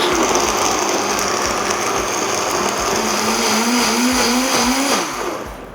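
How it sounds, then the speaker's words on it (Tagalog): A kitchen blender purees lechon sauce, a loud, continuous motor whine whose pitch slowly rises before it winds down near the end. "ibabalik ko na to sa blender at i-puree pa natin"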